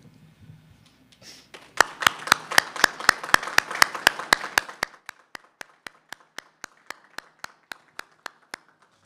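Graduates' family and friends at a surgical technology pinning ceremony get a round of applause. It starts as a burst of crowd clapping after a brief voice, then thins to a single person clapping sharply and steadily alone in a quiet room.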